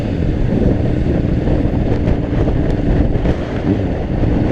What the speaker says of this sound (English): You guys can hear the wind on the mic,